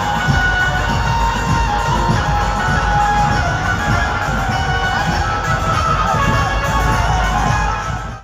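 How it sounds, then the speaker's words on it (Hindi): A large crowd of devotees fills a street during a religious procession, producing a dense, continuous roar of cheering voices and children's shouts with no pauses throughout. "इस मौके पर श्रद्धालुओं की भारी भीड़ सड़क पर एकत्रित थी"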